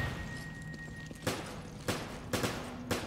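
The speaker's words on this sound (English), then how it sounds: "I'm gonna shoot it now." Gunfire in the Resident Evil 5 video game: four sharp shots ring out about every half second after a low, steady game ambience, each fairly loud with a short tail.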